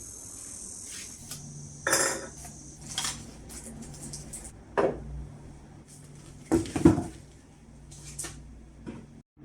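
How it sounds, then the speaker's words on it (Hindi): Belongings such as clothes and shoes being packed into a bag, heard as sparse rustles, thumps and knocks of items going in, separated by quiet stretches with a faint background hum. "तो अब इनको मैं डालती हूँ इस बैग में।"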